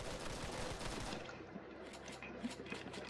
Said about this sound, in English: I hear gunshots outside